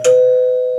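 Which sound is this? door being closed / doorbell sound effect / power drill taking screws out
doorbell sound effect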